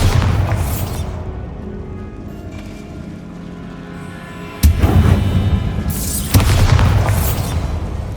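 Two heavy booming blasts from the Bombarda spell in Hogwarts Legacy on PS5, each a sudden loud burst with a long rumbling tail, following an earlier fading roar, with no talking.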